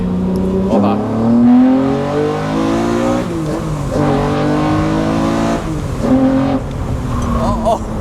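A naturally aspirated Acura NSX at a Miami tuner dealership revs hard and loud, its engine climbing in pitch through repeated bursts of acceleration with short dips between them.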